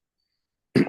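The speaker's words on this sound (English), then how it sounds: "I got to clear my throat again" A single short, throaty throat clearing bursts out after near silence, close and fairly loud, lasting a fraction of a second.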